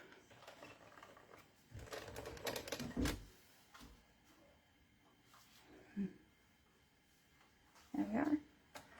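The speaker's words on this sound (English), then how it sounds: "I'm just running it through my die cutting machine again." A mini die cutting machine cranks paper through in a quiet room, giving soft irregular clicks and rumbling bursts with pauses between turns.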